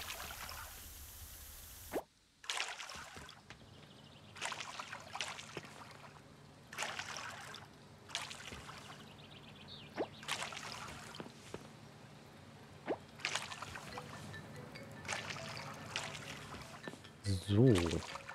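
Crops are watered with a watering can in the video game Coral Island, giving repeated short splashing pours at a steady pace over soft background music, with a person talking at times.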